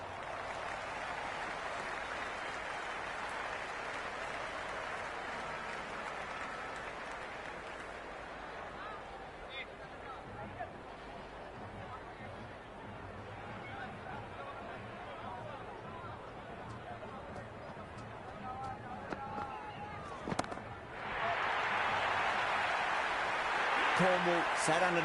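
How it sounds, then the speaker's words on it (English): A raucous stadium crowd in the cricket video game Cricket 26 under floodlights, a steady wash of cheering and babble that swells louder near the end, heard alone without commentary. "The crowd are really getting quite raucous."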